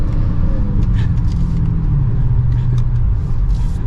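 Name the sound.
Dodge Charger SRT Hellcat Widebody accelerating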